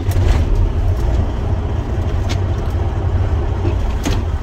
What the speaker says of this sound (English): and I'm gonna start my engine